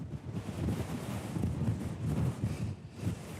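Strong wind blowing outdoors in a frigid, exposed setting at around minus ten degrees, a loud continuous rushing roar buffeting the microphone with gusty surges throughout.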